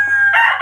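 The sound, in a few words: golden boy sweater gamefowl rooster crowing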